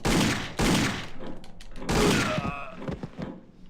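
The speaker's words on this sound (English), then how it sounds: "We exchange bullets like gentlemen." Gunfire in the video game Indiana Jones and the Infernal Machine: a few loud, close bursts of shots with thuds between them, dying away into quieter knocks near the end.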